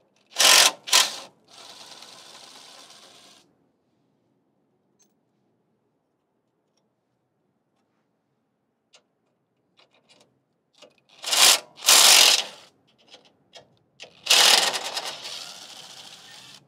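Ratchet clicking close up while removing cover screws under a Toyota 4Runner, quick bursts of rapid clicks separated by long quiet gaps and faint taps.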